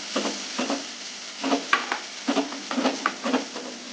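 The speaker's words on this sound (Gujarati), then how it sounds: "લસણ બરાબર શેકાઈ જાય તો મરચું નાખી દેવાનું" Garlic roasting in a pan for garlic chutney, with a spoon stirring through it in a steady run of soft scraping strokes over a light, close sizzle.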